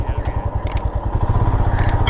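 A motorcycle engine rumbles steadily and loudly during a ride in Ladakh, its pulsing exhaust beats continuous and close throughout, with brief higher clatter above the drone.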